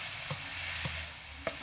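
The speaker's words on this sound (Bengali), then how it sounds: "গাজর দিয়ে ভালো করে কষিয়ে নেব।" Grated carrot stir-fried with spices hisses in a steady close sizzle, punctuated by three light taps of a spatula against the pan.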